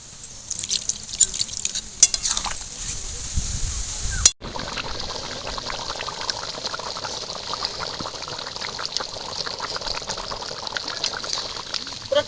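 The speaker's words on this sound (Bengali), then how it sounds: "টক বক করে একদম ফুটছে" A pot of chicken curry bubbles and simmers up close, with soft popping and drips, broken by one brief sharp knock partway through.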